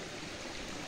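Spring water flowing down from above at a hillside water source in Nepal, a steady close rushing splash that fills the whole brief moment without voices.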